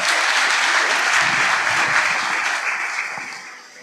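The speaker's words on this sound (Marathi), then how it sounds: "त्यांच्यासाठी आपण टाळ्या वाजू शकता" An audience at a police officer's speaking event in Phaltan claps together in dense, loud applause that holds steady, then fades out toward the end.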